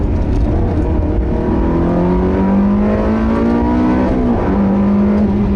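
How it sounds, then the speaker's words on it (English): A Ferrari 360 engine revs hard while driving, loud and close, climbing in pitch before a brief dip at a gear change and then pulling again, with no talk. "Oh my goodness. Yep. This is a Ferrari."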